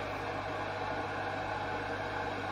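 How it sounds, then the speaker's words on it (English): A microwave oven heating milk gives a steady, even hum with a constant low drone, unchanging for the whole stretch. "I'm just microwaving the milk"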